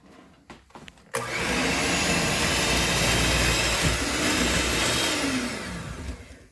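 An electric hand mixer with two whipping blades beating white cake batter, switching on after a few soft knocks into a loud, steady whirring drone that holds for several seconds and then eases off.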